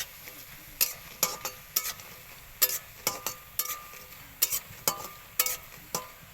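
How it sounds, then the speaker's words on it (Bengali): Lentil dumplings (bori) frying in a pan, a sharp series of clinks and scrapes from a utensil stirring at an uneven rhythm over a low sizzle, close and alone. "আমি বড়িটা ভেজে নেব"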